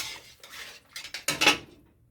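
Spoon stirring food in a metal pot after pepper is added, a few soft scraping and clinking strokes, close and quiet, ending in silence.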